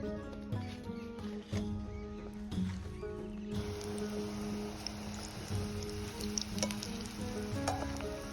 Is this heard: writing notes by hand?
no